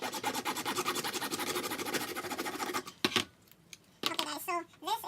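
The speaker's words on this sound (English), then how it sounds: "I'm just going to take my hacksaw in the same manner and try to get it straight." A hacksaw cutting a Dollar Tree piece for a DIY wall sconce makes fast, rhythmic back-and-forth rasping strokes, then stops; a few scrapes and handling noises follow.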